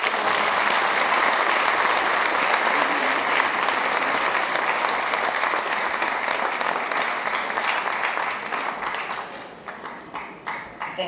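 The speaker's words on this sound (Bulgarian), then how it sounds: "Да изпратим още веднъж аплодисменти." Loud, dense applause from a large crowd at a GERB party election campaign opening in Bansko, sustained for several seconds and then thinning into scattered claps toward the end.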